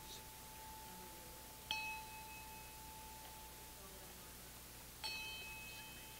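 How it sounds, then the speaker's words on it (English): A Tibetan bell is struck twice, about three seconds apart, each strike giving a bright ring that fades slowly in a quiet room. "I'll ring the Tibetan bell"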